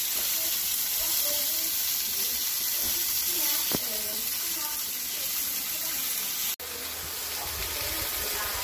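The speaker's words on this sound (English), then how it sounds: "Still letting those peppers heat up and still grilling those yummy asparagus." Asparagus and peppers sizzling on a steel grill top, a steady bright hiss of frying with faint crackles throughout and a brief dropout near the end, with a voice speaking over it.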